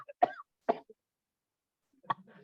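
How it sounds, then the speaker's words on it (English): A person demonstrates a cough: two sharp, close coughs in quick succession, a pause, then a third, rougher cough, with no other sound in between. "I started coughing"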